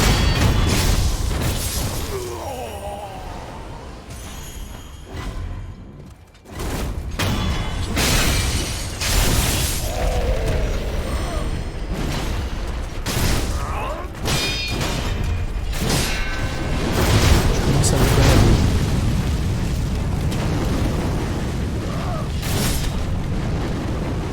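Cannon fire and loud booms in the Sekiro: Shadows Die Twice video game, with repeated heavy blasts and impacts over a dense, noisy battle backdrop lasting the whole stretch.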